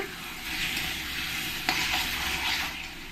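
Potatoes fry on a medium flame with a steady hissing sizzle and a single sharp utensil clink partway through, close up with no talking.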